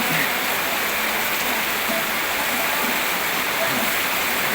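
Heavy rain pours down steadily during a flood at a home, a dense, loud, unbroken hiss of water that fills the whole stretch with no voices heard.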